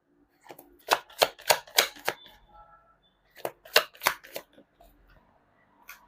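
Tarot cards are shuffled in two quick runs of crisp riffling snaps, close and distinct, separated by a short pause with no talking.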